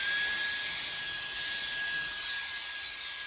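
A WOLFBOX MF60 mini blower runs steadily on its own, a loud continuous high-pitched whine with a rushing airflow hiss and no break.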